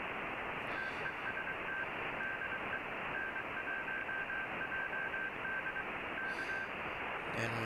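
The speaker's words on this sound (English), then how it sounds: "there's somebody on CW" Faint CW Morse code tone from an amateur radio receiver, a steady pulsing beep of dots and dashes over a constant band of static hiss.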